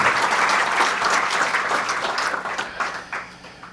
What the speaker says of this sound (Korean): 이럴 때 박수 한번 쳐주셔도 괜찮습니다.